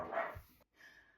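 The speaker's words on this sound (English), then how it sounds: "Dogs are barking like crazy." Dogs bark indoors, one burst loud and near at the start, followed by quieter scuffling and a faint fading tail.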